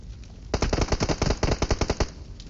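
Rapid automatic gunfire sprayed in the mobile battle royale game PUBG Mobile, a dense run of about fifteen sharp shots fired in quick succession, loud and close, with no talk over it.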